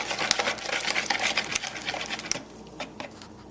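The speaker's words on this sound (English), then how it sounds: "2 eggs, whisking this all together." Eggs being whisked into brownie batter in a bowl for toaster oven brownies, a steady run of quick, close scraping and tapping strokes that thin out and grow sparser near the end.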